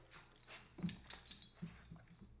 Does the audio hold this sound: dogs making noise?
yes